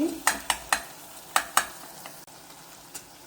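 Tomatoes mashed and frying in a pan, a quick run of five sharp spatula taps and scrapes against the pan over a low sizzle, then a quieter pause and one last tap.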